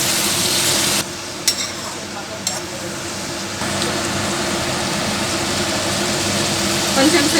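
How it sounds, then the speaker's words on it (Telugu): Ivy gourd fry stirred in a pan with turmeric and salt, a steady sizzling hiss with a few scraping knocks, close and loud, and a voice speaks over it. "తగినంత పసుపు, కొంచెం ఉప్పు, ఇవి వేసి కొంచెం కలుపుకొని"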